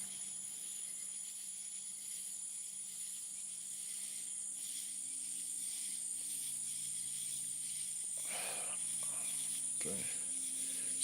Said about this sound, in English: I don't know what noise they're hearing other than the crickets and the frogs out there